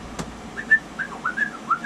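Several short rising and falling whistled chirps, evenly spaced and clear, a human whistle imitating a baby duck's peep.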